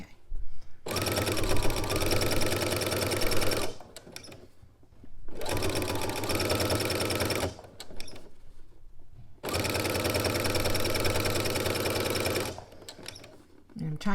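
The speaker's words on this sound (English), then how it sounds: "I'm sewing through this seam allowance" A sewing machine with a walking foot stitches through a seam allowance on a robe, running in three long steady bursts of about three seconds each, separated by short pauses, close and loud.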